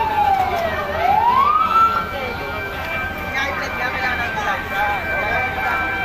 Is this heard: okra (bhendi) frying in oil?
no